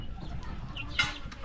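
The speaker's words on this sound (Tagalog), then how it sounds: "Ayan ang ating mga sisiw." Chickens and chicks in a coop give a brief cluck and soft peeping, one close call standing out near the middle over low background noise.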